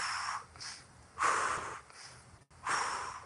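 Deep, slow breaths during a no-equipment lower-body stretching session, three long airy inhales and exhales close to the microphone with short pauses between them.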